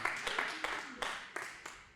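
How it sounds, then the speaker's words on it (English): Scattered hand claps from a comedy show audience, a few sharp separate claps spread across two seconds under a comedian's ongoing talk. "That was a satisfying clap."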